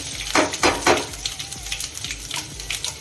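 Farali muthiya mixture is stirred in a pan over low gas, giving a soft sizzle with several scraping strokes of a spoon close up, a few louder sweeps early, then gentler ones.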